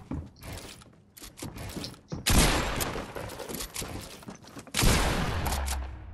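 Pump shotguns fire in a Pump Wars video game: close, loud blasts with mechanical pump clicks in between, including two heavy booming shots, plus faint talk in the background.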